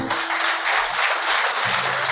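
Church congregation applauding loudly for the Lord during a service, a thick continuous roar of clapping that fills the room, steady throughout with faint low tones beneath.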